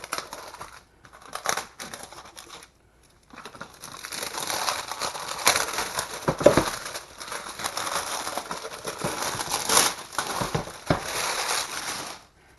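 Packaging being unwrapped from an Orfeld 116-piece homeowner's toolkit, model HT116X, in a hard case, with close, loud crinkling and tearing of plastic and cardboard in irregular bursts that run on continuously after a few sparse rustles.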